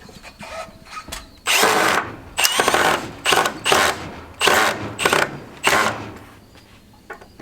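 A power drill drives a screw into a board outdoors on a ranch, whirring in about seven short, loud bursts separated by brief pauses.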